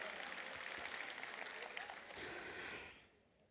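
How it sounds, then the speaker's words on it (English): Audience applause in a talk or event hall, a steady dense wash of clapping for about three seconds that fades out toward the end. "Yeah, she deserves a round of applause."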